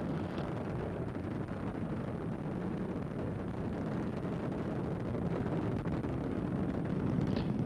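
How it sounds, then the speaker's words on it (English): Space Shuttle Discovery's three main engines roar during the STS-63 launch as a steady, dense, distant rumble with crackling texture that holds at constant loudness throughout, with no talk over it. "Three engines on Discovery now throttling down to two-thirds throttle"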